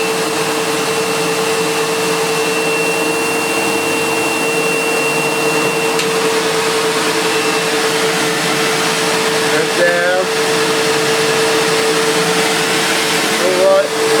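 A Sebo Automatic X1.1 upright vacuum cleaner running with its brush roll spinning, a loud steady motor whine holding an even pitch throughout, with a few faint brief squeaks near the end.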